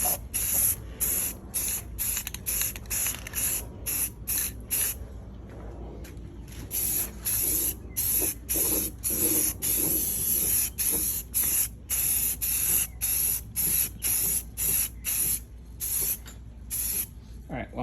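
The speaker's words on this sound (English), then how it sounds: "This is me spray painting with one hand, trying to focus on where I'm actually painting." A spray can coats a car engine bay at home, hissing in rapid, loud bursts of varying length with brief gaps, close up for the whole stretch.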